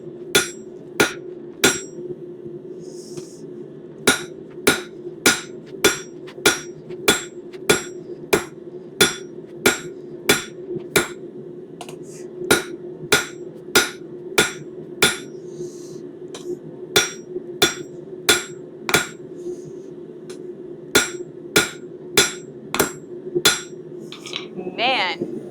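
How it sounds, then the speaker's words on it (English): Steel is hammered while a corkscrew handle is forged and drawn down: sharp, ringing hammer blows land in quick, steady runs, each burst broken by brief pauses, over a constant low hum from the forge, with no talk. "And then we are going to continue hammering"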